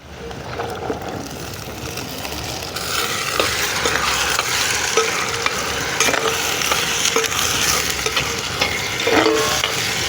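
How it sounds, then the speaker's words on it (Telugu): Bitter gourd frying with browned onions in a pan, a loud steady sizzle with scraping stirs throughout, growing fuller partway in as the gourd goes in. "వేసుకున్న ఉల్లిగడ్డలు అయితే ఎర్రగా ఇప్పుడు కాకరకాయలు అయితే వేసుకుందాం."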